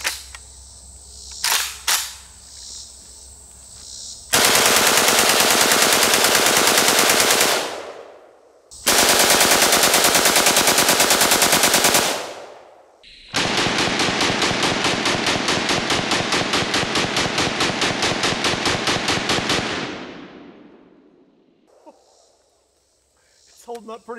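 AK-47 firing fully automatic into a cinder block wall, in three long, loud, rapid bursts split by short pauses, with brief talk before and after.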